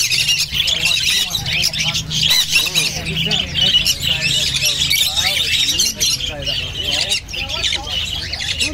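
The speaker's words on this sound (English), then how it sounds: "So many birds." Many birds squawk and chirp densely and continuously at the Caboolture Markets, close and loud, with people talking underneath.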